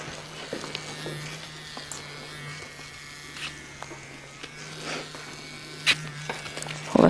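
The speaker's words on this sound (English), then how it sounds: "The razor is heated." A heated hair-cutting razor gives off a low, steady electric hum while it passes through long hair. Soft scraping strokes and a few small clicks sound close by.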